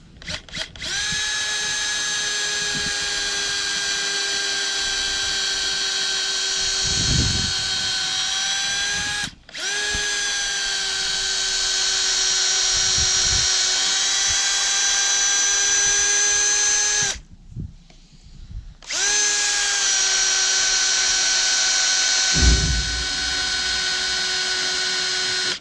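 A power drill bores a hole in an H brace fence post for a woven wire field fence, with a steady high whine held for long stretches and two brief pauses where the motor stops and restarts.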